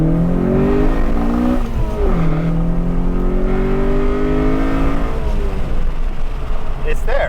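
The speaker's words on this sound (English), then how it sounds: "That crossover is loud. It is, man. It's that titanium intake." Honda Accord wagon with an H22 engine and titanium intake revving hard through VTEC crossover: a loud, close engine climbing and falling in pitch through several sweeping revs, with people talking over it.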